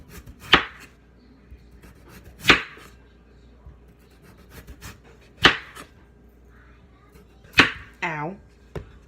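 A knife chops through big potatoes on a board for homemade hash browns, with four sharp, well-spaced thunks at close range and a brief voice near the end.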